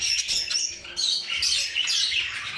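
Caged budgerigars, a clear wing yellow face hen and an opaline cock, chirp and chatter in quick bursts that stay close and bright throughout.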